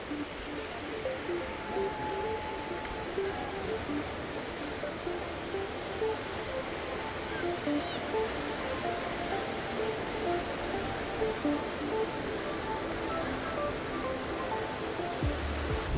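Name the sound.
waves on a sand beach in Malta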